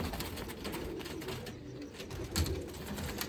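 Golden pigeons coo in a loose, low murmur over a steady wash of background noise, soft and continuous with one slightly louder burst partway through.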